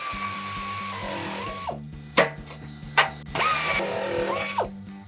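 A power tool snugs down the exhaust heat shield bolts on a Jeep Gladiator JT, with a steady whirring drive broken by gaps and sharp ratcheting bursts, close and loud in a cramped space.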